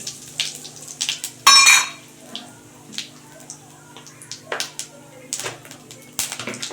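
Whole cumin, cinnamon and cardamom hit hot oil for a coriander-leaf egg curry, giving one sharp burst of crackling sizzle, then softer spits and light clinks of a spoon against the pan.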